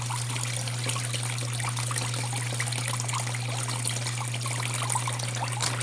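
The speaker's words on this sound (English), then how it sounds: "push some water out of my sniffer bottle" Water is squirted from a sniffer bottle while gold panning outdoors, a steady close trickling and spraying hiss with no pauses, over a constant low hum.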